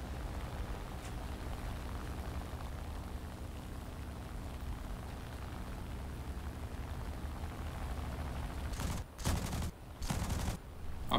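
Machine gun fire from a BF 109 fighter in an aerial combat video game, a steady dense rattle throughout, ending in several louder heavy bursts near the close.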